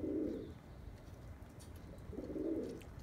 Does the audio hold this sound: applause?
no